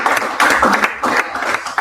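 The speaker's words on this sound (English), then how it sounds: "Please, let's clap for him again." An audience at a live business and leadership training session claps in uneven bursts, loud and close, with the clapping swelling and fading in waves over roughly two seconds.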